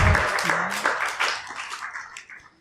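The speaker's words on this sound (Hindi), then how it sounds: "ताली बजाओ सब इनके लिए।" An audience claps for the children at a Srimad Bhagwatam devotional discourse, a burst of mixed hand-claps that swells near the start and then thins out over a few seconds.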